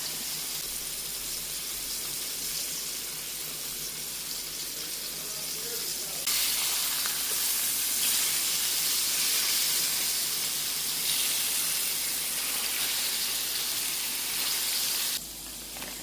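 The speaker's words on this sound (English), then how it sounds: "while the pork chops are browning" Pork chops seasoned with garlic, salt and pepper browning in a pan, a steady hiss and sizzle that jumps louder midway and holds, continuous and close.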